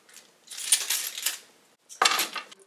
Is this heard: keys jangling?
yes